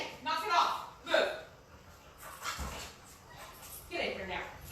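Pet dogs locked outside a house whimper and yip in short bursts, a few fairly close whines and cries while a person speaks over them.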